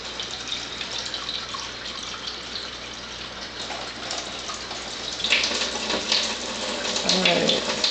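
Water pours steadily from a Tyent water ionizer into a glass, a continuous splashing flow that grows louder and fuller toward the end.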